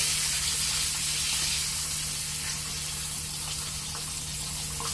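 Copycat Popeyes-style chicken sandwich fillets fry in hot oil, making a constant close sizzle and crackle with a low steady hum beneath.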